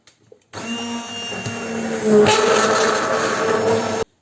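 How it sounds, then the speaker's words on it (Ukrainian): A blender starts up abruptly, blending cooked strawberries and bananas into juice with a loud steady whir, the pitch shifting as it works, then cuts off sharply. "тепер ми це будемо збивати блендером"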